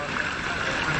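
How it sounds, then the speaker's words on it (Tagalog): Large sea waves wash around a fishing boat in a dense, steady roar of water and wind that fills the whole moment. "Laki ng alon."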